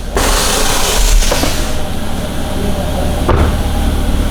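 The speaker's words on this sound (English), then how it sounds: "All right, so air down mode." An aftermarket air-bag suspension on a C8 Corvette, set to air down mode, vents and lowers the car, giving a loud, continuous hiss of escaping air with a short burst near the end.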